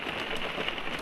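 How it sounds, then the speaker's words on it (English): Rain patters on a camper van in Norway in a steady, close hiss of drops hitting the roof. It stays even and continuous at a moderate level with no speech. "is the sound of rain."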